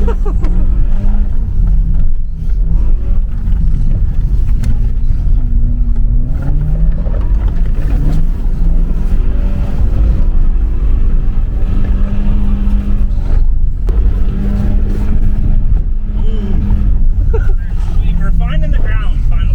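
A car engine rumbles loudly and steadily, its pitch climbing in repeated surges as it pulls under power once the clutch bites, with a voice talking over it throughout.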